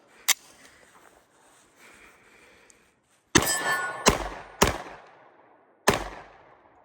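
A Kimber DS Warrior 10mm pistol fires several loud outdoor shots, one early crack, then four spaced heavy reports in a cluster near the end, each followed by a short echoing decay.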